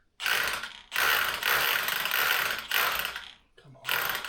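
Concrete screws are driven into timber cladding on a large duck house, heard as four loud, rasping mechanical bursts separated by brief pauses, with the last one short and close.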